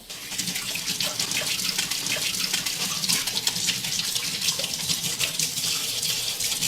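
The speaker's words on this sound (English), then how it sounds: "Turn the water on there." A kitchen tap runs in a steady, close gush as a lemon is rinsed under the water, with no voices.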